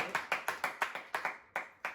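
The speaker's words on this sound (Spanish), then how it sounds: "Fernando, un gran aplauso." A few people clap in sharp, evenly spaced claps, close and fairly faint, welcoming a guest on a Spanish-language podcast.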